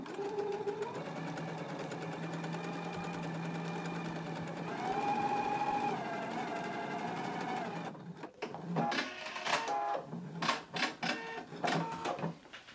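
A sewing machine runs in long steady bursts while stay stitching the upper edges of dress pattern pieces at a half-inch seam allowance, then breaks into short stop-start runs near the end.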